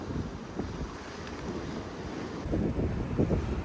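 Steady wind buffets the microphone in low rumbling gusts on a hiking trail, growing stronger toward the end, with no voices.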